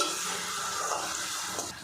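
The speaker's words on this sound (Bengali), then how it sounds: "গ্রেভিটা ভালো করে ফুটিয়ে নেব" A papaya and moong dal gravy bubbles in a pan with a soft steady sizzle and light stirring scrapes, close and brief, with no talking.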